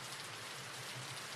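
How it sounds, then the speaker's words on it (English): Steady rain falls continuously on a surface, a dense, even hiss of drops with no voices. "Some rain will put us to sleep."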